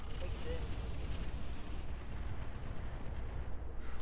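A salvo of LRM missiles loaded with Artemis ammo fires in the BattleTech game, heard as a dense, continuous roar of launches and blasts that stays loud for the whole stretch.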